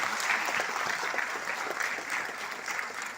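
An audience at a film event claps for the film team in a fairly quiet, continuous burst of applause lasting a few seconds, with a faint murmur of voices.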